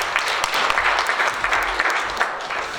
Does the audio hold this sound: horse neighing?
no